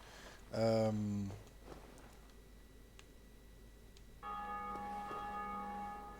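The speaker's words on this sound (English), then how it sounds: "Bell of Awakening" The Bell of Awakening in the video game Dark Souls rings once with a loud, resonant strike that decays over about a second, followed later by a sustained tonal ringing that holds steady to the end, with faint ambient noise beneath.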